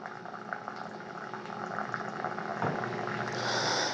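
Hot water pouring from the spout of a coffee pot: a steady bubbling, hissing flow that builds slightly and brightens toward the end, fairly faint and heard alone.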